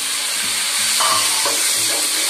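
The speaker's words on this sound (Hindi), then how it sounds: "टमाटर के इस ऑयल में अच्छे से फ्राई हुए तक, टमाटर गले तक इसको फ्राई करना।" Chopped tomatoes fry in hot oil in a home kitchen for Hyderabadi vegetable biryani, giving a loud, steady sizzle and hiss with occasional stirring scrapes throughout.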